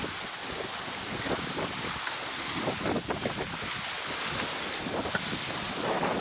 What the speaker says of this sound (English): You can hear that bump when a wave hits the side of the boat.